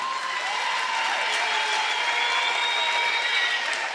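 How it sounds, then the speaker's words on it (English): Steady, dense applause from an event audience thanking the panelists at a 2024 national elections discussion, continuous clapping at an even level for the whole stretch, with no talking over it. "Can we give a round of applause to all of the panelists for their engagement?"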